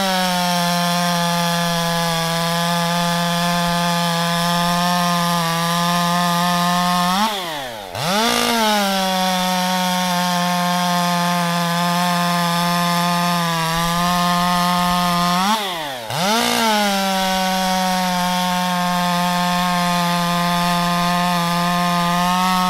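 A Stihl 201T chainsaw running a Stihl 63 PS full chisel chain screams loudly and close at high revs while cutting wood, dipping briefly twice before climbing back to full speed.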